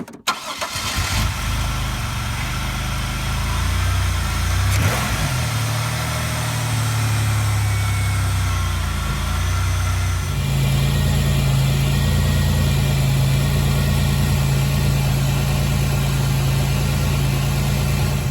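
A 2002 Pontiac Grand Prix 3800 Series II V6 cranks and starts, then settles into a steady, close idle with a whining drone that rises midway and holds.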